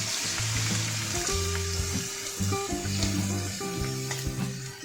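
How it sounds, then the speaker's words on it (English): Garlic and green chili paste fry in a pan for spring onion bhaji, a steady close sizzle with occasional scraping as it is stirred, and no voices. "Stir until the garlic is fragrant and slightly golden. Add green chilies paste and mix it well. Stir continuously."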